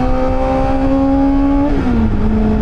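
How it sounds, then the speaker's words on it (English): A loud motorcycle with a super loud exhaust drones steadily at close range, its pitch holding then dropping slightly as the engine eases off, on a highway. "I am a neon green bike. That has a super loud exhaust"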